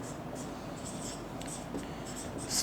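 Writing on a classroom board during a chemistry lesson on SN1 stereochemistry, light scratchy strokes in short bursts, close but faint against a steady background hiss, with a louder scrape near the end.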